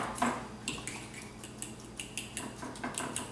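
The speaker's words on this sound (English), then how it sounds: "Okay, so just give it a quick stir," A spoon scrapes and stirs frozen watermelon and blackberry granita in a pan, making a run of light metallic clicks and scratches at close range with no talking.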